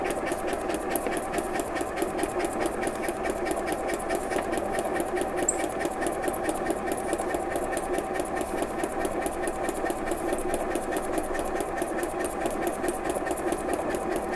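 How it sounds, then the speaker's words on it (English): A sewing machine stitches steadily along a marked line in a beginner exercise, its rapid needle mechanism producing a continuous, even, close-up mechanical whir with regular rhythmic ticking and no talk throughout. "continue sewing."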